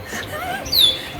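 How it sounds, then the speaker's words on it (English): A bird perched near a car's rear view mirror gives a short high chirp, a quick descending tweet over faint background noise with some softer chirping earlier. "I don't know what we're gonna do about this bird."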